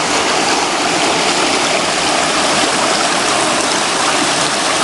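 Small river rapids in Nidd Gorge give a steady, dense, close rush of flowing water, constant and unbroken with no voices.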